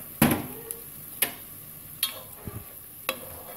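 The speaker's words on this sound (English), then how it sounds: "Stir it up." A spoon stirring Italian tomato sauce in a pot produces a few distinct knocks and scrapes against the metal, spaced about a second apart, over a quiet background.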